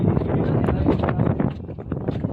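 Wind blowing hard on Girnar mountain, a loud continuous buffeting rush against the microphone that gusts unevenly throughout the short stretch, with no other clear sounds.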